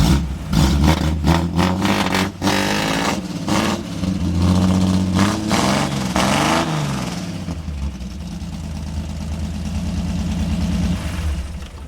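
A small-driver car engine fitted with small mufflers revs hard and loud up close in a series of sharp bursts, then settles into a rough, rumbling idle.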